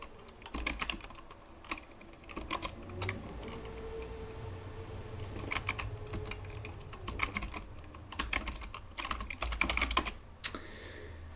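Close, steady computer keyboard typing, with rapid clicky keystrokes in short bursts while tmux shortcuts are entered, and a faint low hum underneath.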